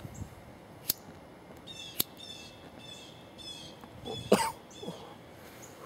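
A few sharp, isolated coughs spaced over a few seconds, then a rougher throat-clearing burst, close and fairly quiet in a hushed room.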